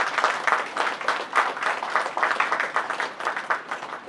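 Audience applause at a full-day budget seminar in Ankleshwar, a steady crowd clapping that swells and dips in waves for about four seconds with no talk over it.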